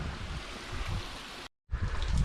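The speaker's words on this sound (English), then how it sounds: "See a little bit of water running off of there." Water running off rocks after rain in the Wichita Mountains: a steady rushing, gurgling flow heard up close, briefly dropping to silence before the trickle resumes.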